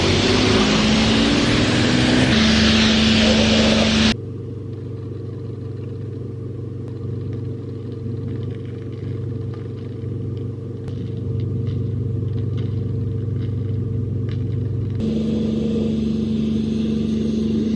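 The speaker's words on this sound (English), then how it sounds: "So here's the car wash. Let's give it a go." An automatic car wash runs over a van: a deep, steady mechanical rumble with broadband spray and hiss fills the bay throughout. The loud rush of water and brushes comes in bursts at the start and end.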